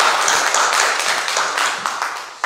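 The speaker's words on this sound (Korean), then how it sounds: "박수 한번 해주세요." An audience at a church meeting of Korean pastors in New York claps. The applause is a steady, dense patter lasting the whole stretch, fairly close and moderately loud, and it trails off near the end.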